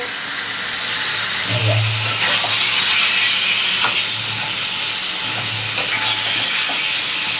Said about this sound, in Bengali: চারিদিকে তেল ছেড়ে দিয়েছে এই যে মশলা দিয়ে চারিদিক দিয়ে এই যে তেল ছাড়তে শুরু হয়েছে